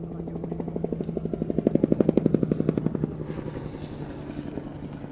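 A helicopter's rotor chops in a rapid, steady rhythm at an air show, growing louder as it nears, then easing off while the engine drone continues.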